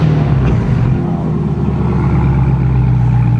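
A Camaro ZL1 with its exhaust valve mode engaged rumbles loudly and steadily up close, a deep continuous engine drone with no talk over it.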